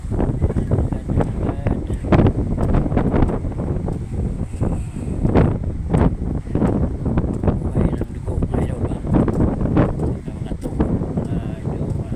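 Wind buffets the microphone in gusty rumbles while someone talks over it, with choppy outdoor noise that could come from a boat.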